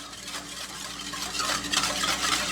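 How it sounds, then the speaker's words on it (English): A whisk swirls through pickling brine for red onions in a bowl, giving a steady soft sloshing and scraping that grows a little louder toward the end, with no talk over it. "Let's give that brine a stir with a whisk"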